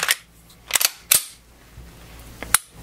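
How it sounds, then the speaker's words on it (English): A slide being fitted back onto a Smith and Wesson M&P pistol produces a few sharp, close metallic clicks and snaps, spaced irregularly over a couple of seconds with quiet between them. "Put our slide back on the gun here."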